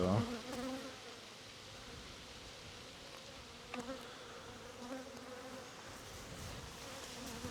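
Bees buzz around an open hive during an apiary inspection of a queenless colony. The droning hum is steady and moderately close, with individual bees passing nearer now and then.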